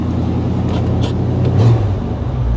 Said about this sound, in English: It's idled up pretty high. See if we can kick that down real quick.